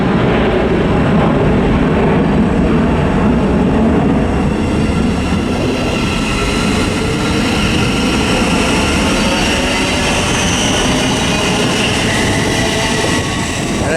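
A Class 700 Thameslink train runs through a station without stopping, a loud, continuous rushing roar of wheels and traction noise, steady and close throughout with no voices.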